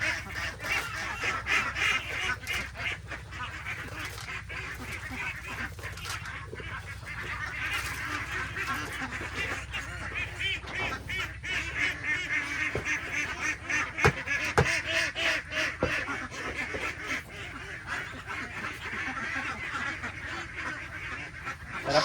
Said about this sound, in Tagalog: Tara po, samahan niyo ako, magpakain tayo ng itik.